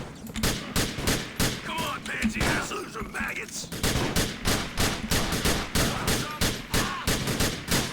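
Rapid, rhythmic gunfire in the game GTA: The Lost and Damned, loud close shots repeating steadily in bursts across the whole stretch with little else underneath.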